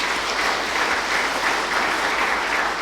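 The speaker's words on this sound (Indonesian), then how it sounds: "Mari kita beri tepuk tangan" A church congregation at a Sunday service for its 88th anniversary breaks into steady, full applause, a dense even wash of many hands clapping through the whole stretch.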